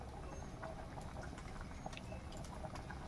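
Homemade chicken curry with country rooster simmering in a pot, a dense continuous bubbling and gentle popping patter close by, steady and fairly quiet with no voices.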